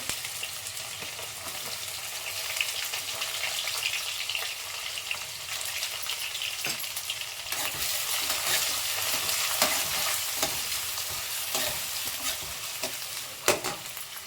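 Chopped onions frying for a potato and green pea kurma, a steady hiss of sizzling oil with scraping stirring strokes in the pan, close and continuous with no voices.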